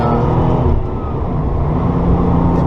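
A Porsche 993 Turbo pulling hard on the highway, its engine a loud, close, sustained low growl with heavy road and wind rumble underneath, steady throughout.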